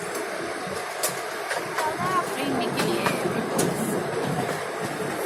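Small passenger park train at Hermann Park in Houston, heard from on board as a steady rolling rumble with faint clicks and rattles, with a speaking voice throughout.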